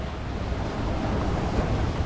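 Waves and wind rush steadily around a sailboat at sea between Tobago Cays and Bequia, a loud, dense wash of surf and wind buffeting with no talking.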